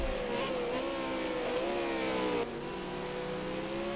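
V8 Supercar race cars in a sim racing game, a loud engine howling at high revs with pitch shifts as gears change and the car brakes into a corner, steady and close, no talking.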